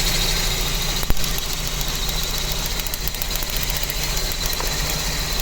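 A Hyundai Getz engine runs at a steady idle close by, its even rumble and faint ticking holding throughout with one brief knock near the start and no talking.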